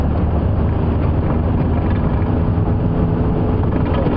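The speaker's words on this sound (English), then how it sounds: "Probably over the sound of the Mahindra's engine." A Mahindra safari vehicle's engine runs in a steady, loud, continuous drone with a rattling mechanical texture during a sunset game drive, with no voices over it.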